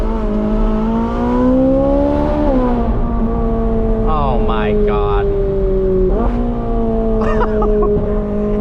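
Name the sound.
Ferrari 458 Speciale Aperta stock V8 exhaust revving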